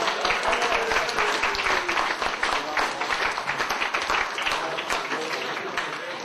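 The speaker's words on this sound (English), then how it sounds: "Big round of applause" Wedding guests break into a big round of applause at a reception, a dense, loud and sustained clatter of many hands that thins slightly toward the end, with cheering voices mixed in.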